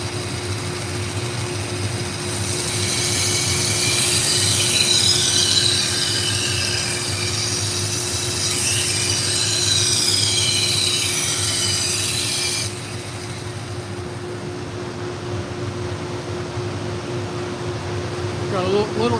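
A knife edge is ground on a powered grinder with the edge trailing: a steady rasping hiss for about ten seconds over a constant motor hum, then the grinding stops and the hum continues alone.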